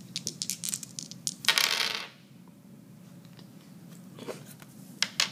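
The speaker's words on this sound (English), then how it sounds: "And choose to reroll the other 3 dice." Plastic dice rattle and clatter across a tabletop during a card-and-dice game, a burst of quick clicks and tumbling hits followed by quieter scattered taps near the end.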